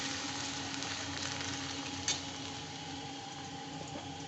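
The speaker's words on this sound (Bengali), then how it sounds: "সেই আলুটা এখানে ভেজে নিচ্ছি।" Diced potatoes fry in a pan with a constant bright sizzle and a single sharp click partway through. No one speaks.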